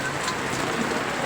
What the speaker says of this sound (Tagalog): Tumatagaktak ang ulan.